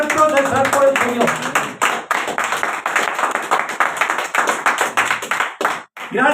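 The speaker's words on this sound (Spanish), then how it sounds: "Gracias por ese aplauso." Church congregation clapping steadily in loud, dense applause that fills the room, with a few voices mixed in and a brief drop near the end.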